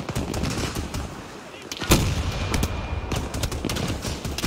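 Gunfire in Battlefield 2042, dense automatic bursts and sharp cracks rattling steadily throughout, with one louder blast near the middle; the shooting comes from close by and some way off.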